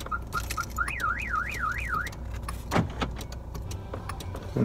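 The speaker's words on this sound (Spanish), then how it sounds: "Una alarma." A car alarm warbles up and down in a fast, repeating electronic tone after a few short chirps, then stops, leaving street noise and a couple of thuds.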